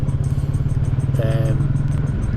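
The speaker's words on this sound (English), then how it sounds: "the engine braking on the Enfield does an amazing job of going down hills" Royal Enfield Classic 350 single-cylinder motorcycle engine braking down a hill of hairpin bends, a steady loud low thrum running evenly throughout with no speech.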